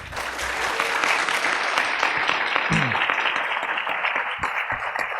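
An audience applauds after a talk at a college alumni event, sustained clapping with scattered cheers filling the space at a steady level, a brief low thud partway through.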